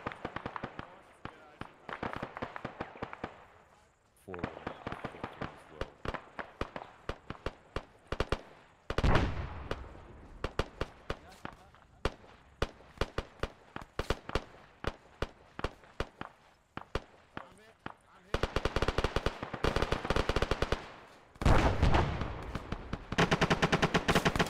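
Rapid bursts of gunfire from the military game ArmA 3 during a platoon field exercise, dense automatic volleys and single shots cracking repeatedly over about twenty-five seconds, some loud and close, others more distant, with no speech.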